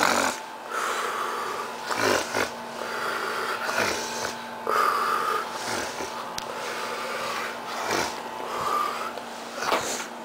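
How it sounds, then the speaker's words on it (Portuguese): A young man asleep indoors snores repeatedly, with steady rasping, wheezy breaths in a regular rhythm, loud and close, and no talking. "Não esqueça que ele não para de roncar."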